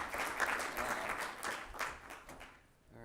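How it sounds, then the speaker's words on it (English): Audience applause for a speaker introduced to give a tutorial talk on nature-inspired heuristics, a dense steady wash of clapping that fills the room, then thins and fades out near the end. "let's give Craig a welcome round of applause for his talk"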